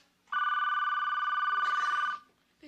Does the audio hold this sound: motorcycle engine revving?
no